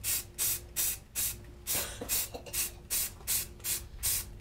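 A spray can applies primer to a carved redwood sign in about ten short, hissing bursts in a steady rhythm, close and fairly loud, with no talking.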